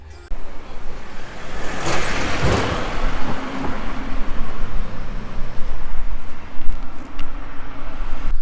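A car driving on a highway near Niš toward Sofia, a steady broadband road and tyre roar from inside the moving vehicle with a passing whoosh, continuous and fairly loud.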